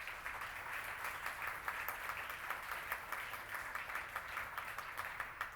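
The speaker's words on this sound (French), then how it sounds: "Vous pouvez l'applaudir." Faint, steady applause from an audience at a French-language presentation of Ontario's commissioners, a dense patter of clapping sustained throughout at a distance.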